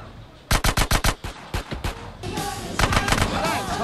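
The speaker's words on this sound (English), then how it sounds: "They're shooting each other." Rapid, punchy gunshots burst out in GTA San Andreas, a quick string of six or so loud cracks followed by scattered fire and a busier clatter of shots and game noise.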